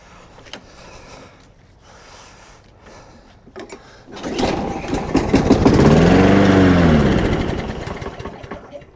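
Estate-auction lawn mower with a suspected dirty carburetor, a few quiet clicks and clunks before the engine cranks and fires, swelling into a loud, close, steady running roar that slowly eases off.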